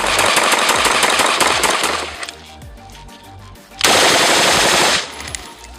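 An automatic rifle chambered for rounds such as .223 Remington fires rapid, loud full-auto bursts, a long burst followed by a brief pause and a second burst.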